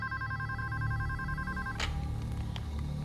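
A telephone rings with a steady repeating electronic bell tone, then a sharper clatter near the end, as though the handset is picked up. No voices are heard.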